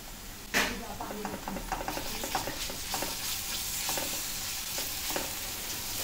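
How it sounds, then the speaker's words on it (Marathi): Ginger garlic paste fries with onions in a pan for a Maharashtrian elephant yam curry, stirred with repeated scraping strokes over a steady sizzle, one sharp clatter at the start, close and without speech. "ह्याचं आलं लसूणचं तो जाईपर्यंत आपल्याला हलवून घ्यायचं व्यवस्थित"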